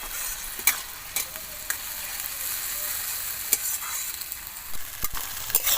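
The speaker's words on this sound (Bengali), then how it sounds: "তো মশলাটা এখানে আমি খুব ভালো করে কষিয়ে নেব" Ground spice paste stir-fried in a hot pan for a magur fish and potato curry: a steady close sizzle, with sharp spatula scrapes and clicks scattered throughout and no talking.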